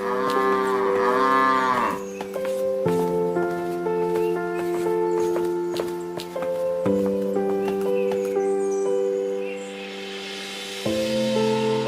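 Cartoon cattle moo with a drawn-out bellow at the start over a bright, plucked animated-film music score that continues after the call.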